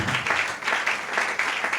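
Applause fills a church service, a dense and steady clapping from a congregation that rises and falls slightly over a couple of seconds.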